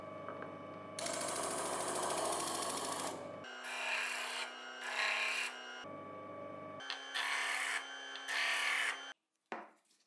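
Disc sander mounted on the left side of a woodworking lathe finishing a wooden handle, giving a steady rasping, rubbing whir in several bursts of contact that stop near the end.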